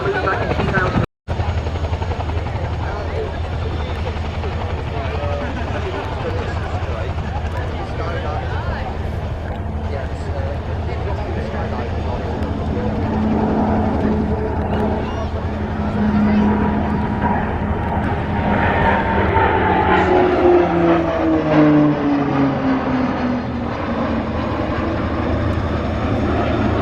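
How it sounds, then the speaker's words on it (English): Texan turboprop trainers on a flypast at an RAF Valley air display, running in and breaking to land, their engine drone sustained and loud over steady crowd murmur, with the pitch sliding downward near the end as they pass and pull away. "Flypast by the Texans, they perform what we call a run and break to land."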